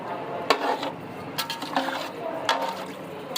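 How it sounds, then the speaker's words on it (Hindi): Spices are stirred into beef pulao in a pot, with repeated scraping and clinking strokes of a spoon against metal over a soft wet background, close and moderately loud. "ये जो मसाले मैंने आपको बताए थे वो सारे मसाले इसके अंदर डाल देंगे और इसे मिक्स कर लेंगे।"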